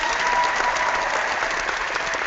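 Dense, steady applause from an audience at an online hangout event, loud and continuous for a few seconds with no voices over it.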